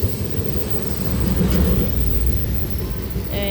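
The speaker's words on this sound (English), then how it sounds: "And there goes the train." A coal train with four locomotives rumbles past beneath the Napavine Underpass, a loud, continuous low roar of wheels and cars close by with a faint high squeal.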